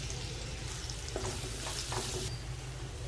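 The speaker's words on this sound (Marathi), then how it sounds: "त्याच कढईत मी इथे तीन टेबलस्पून तेल घेतलेलं आहे आणि एक मध्यम आकाराचा कांदा बारीक चिरून घेतलेला आहे तो मी तेलात घालून घेते" A medium onion, finely chopped, frying in three tablespoons of oil in a kadhai gives off a steady, even sizzle with a few brief stirring scrapes, heard close up and alone.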